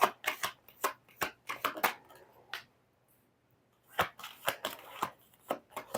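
Tarot cards shuffled by hand in a run of crisp riffling bursts, a quiet gap in the middle, then more brisk shuffling; no talking.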